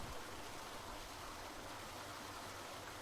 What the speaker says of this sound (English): you can start to hear the sound of a waterfall to the south.